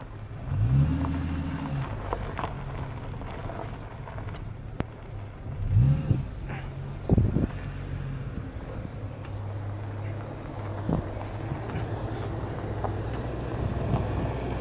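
A Ford Courier car drifting and skidding, with a steady engine drone throughout and a few brief tyre squeals about a second apart, at moderate distance and with no talking.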